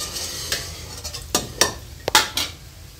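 Chicken stock being added to spring roll filling in a pan, with a soft sizzle under a few sharp utensil scrapes and clinks against the pan, close and fairly quiet.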